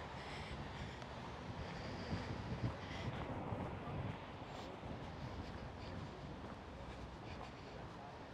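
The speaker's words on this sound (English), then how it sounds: "it is very windy. I wonder if you can hear that" Strong wind gusts buffet the microphone on a city street in central Copenhagen, near grand buildings, a steady broadband rush with brief louder buffets throughout.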